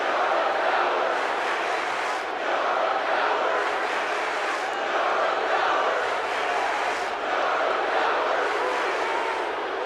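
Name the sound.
crowd booing in WWE 2K18 video game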